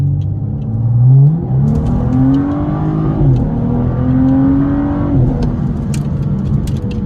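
A BMW 435i with FBO upgrades accelerates hard, its engine revving up through gears with rising pitch and brief shift dips, heard loud and close from inside the cabin.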